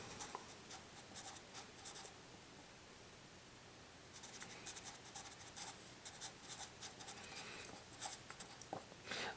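A math solution is written by hand, soft scratchy pen strokes in short bursts with a pause partway through, close and faint with no talk.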